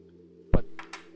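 An English mug struck once with a sharp tap, followed by two fainter taps, giving a brief, close metallic-sounding ring over a low steady hum.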